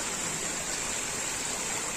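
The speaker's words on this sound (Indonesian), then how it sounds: "Karena ini ada air terjun kecil di bawah ini" A small waterfall and stream on a forest trail near Langkuik Tinggi in West Sumatra send out a steady, unbroken rush of splashing water, close and even throughout.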